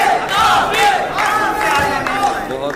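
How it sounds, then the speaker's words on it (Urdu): A large audience at a Dubai Urdu poetry mushaira claps and cheers as the poet Tehzeeb Hafi comes on stage, the crowd noise loud, dense and sustained throughout. "بھرپور تالیوں میں تشریف لاتے ہیں جناب تہذیب حافی."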